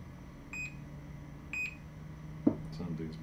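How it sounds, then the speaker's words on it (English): Two short, high electronic beeps from a DJI Ronin 4D camera, about a second apart, clear but not loud, over a low hum, followed by a soft knock and faint voice. "Something's beeping. Why are you beeping?"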